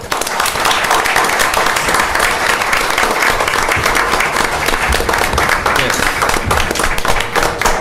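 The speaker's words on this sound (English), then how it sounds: "Please give them a round of applause." Dense, steady clapping from an audience at a city council meeting fills the room, loud and sustained with no break.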